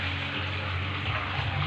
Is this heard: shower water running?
yes